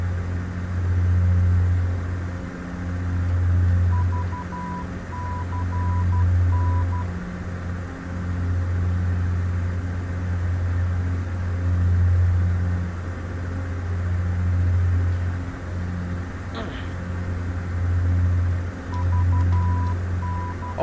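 In MS Flight Simulator 2004, steady repeating beeps sound in short bursts over a pulsing, droning cockpit hum.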